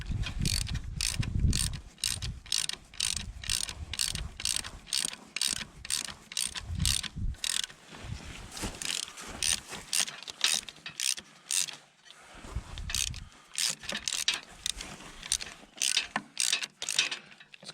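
A 9/16 wrench works the starter bolts on an IH 1086 tractor, giving close, rapid runs of ratcheting clicks in repeated bursts. Short pauses and a few dull metallic knocks fall between the runs.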